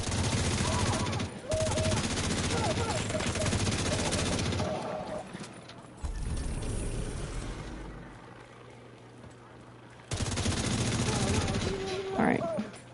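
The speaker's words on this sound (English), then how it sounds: "Somebody else heard the gunfire." Video game gunfire in bursts, loud clusters of rapid shots and automatic fire separated by quieter gaps, with a brief tonal sweep near the end.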